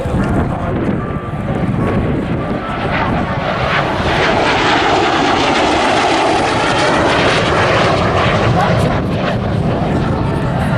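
A Polish-marked MiG jet of the Norwegian Air Force Historical Squadron flies at the Southport Airshow 2018, its engine roar loud and continuous, with wind buffeting the microphone.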